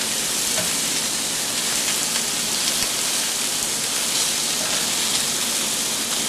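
A first batch of sausage sizzles steadily as it cooks, a dense, even crackle that holds loud and close throughout, with no talk over it.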